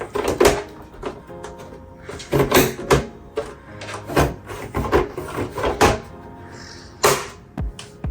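Plastic side cover of a PS5 console opened and closed by hand, a series of sharp clicks, snaps and scraping slides at close range, recurring in bursts with no talking.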